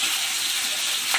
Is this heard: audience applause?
no